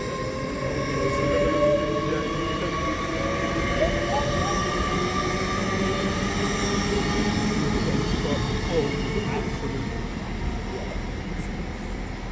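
Great Western Railway Class 800 unit 800 001 pulls out of Reading on a service to Oxford with a steady, nearby drone and gliding whine tones that hold throughout as the train departs.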